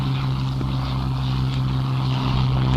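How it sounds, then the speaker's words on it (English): A WWII P-51 Mustang fighter drones overhead, a steady propeller-engine roar with a low sustained hum, loud and constant without voices. "Mustangs flown by the Poles who fought in the Battle of Britain."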